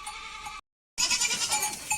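Goats and goat kids bleat at milking time on a farm, loud, close, overlapping cries broken by a short silence before the bleating resumes.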